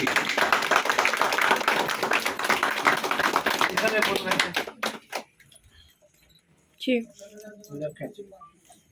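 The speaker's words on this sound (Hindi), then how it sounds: "बजाओ ताली।" An audience claps at a traders' association gathering, a burst of quick hand claps lasting about five seconds before fading out, followed by a few scattered sounds and faint voices.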